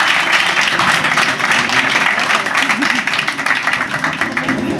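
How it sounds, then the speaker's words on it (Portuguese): A room of listeners claps loudly and steadily for a speaker at a talk event, a dense, sustained wash of applause filling the whole stretch. "Uma salva de palmas para a Andressa."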